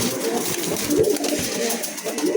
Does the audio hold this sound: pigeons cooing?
yes